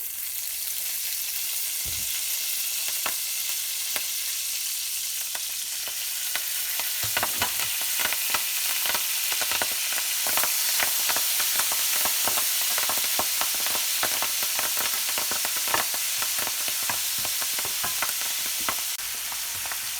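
Chopped kale sizzles in a hot pan, a continuous bright hiss dotted with sharp crackles and pops that grow busier midway, close and steady with no talking.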